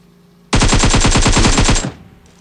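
Automatic gunfire from the mobile battle-royale game PUBG Mobile, played on a 7th-generation iPad: one loud, close burst of rapid, evenly spaced shots lasting over a second, then a sudden stop.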